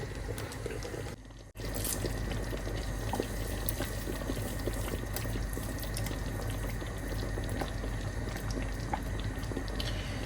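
Water runs steadily from a tap over packaged flowers being rinsed in a kitchen sink, a continuous splashing hiss after a brief silent gap near the start.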